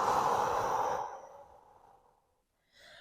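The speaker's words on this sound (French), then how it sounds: "Inspirez encore une fois." A deep, slow breath during a Hatha yoga flow session, loud and airy at first, then tapering off over about two seconds into near silence before a soft intake begins.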